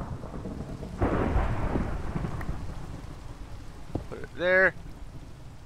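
Thunderstorm with rain in Minecraft: a steady hiss of rainfall swells as a rolling thunder rumble builds, then fades under the rain, and a person speaks briefly near the end.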